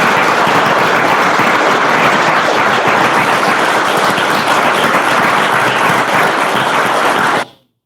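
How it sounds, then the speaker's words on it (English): A large audience applauds steadily, dense sustained clapping at full volume for several seconds before stopping abruptly. "That applause goes on for a while."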